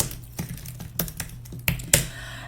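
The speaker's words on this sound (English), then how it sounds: "if I can actually type." Typing on a computer keyboard, a handful of sharp separate key clicks in an irregular rhythm, close and fairly quiet over a faint room hum.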